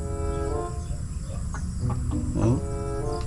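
A lone farm chicken clucks in short bursts close by amid steady background noise, with a few sharper calls near the end.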